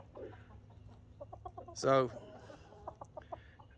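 Hens in a chicken coop cluck in soft, quick runs, and one bird gives a loud squawk midway. Someone says a word quietly over the birds.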